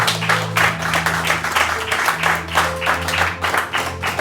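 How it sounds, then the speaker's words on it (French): A church congregation claps in a steady rhythmic beat with some cheering, loud and close, over a sustained musical tone. "Est-ce qu'on peut acclamer le Seigneur?"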